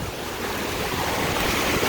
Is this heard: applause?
no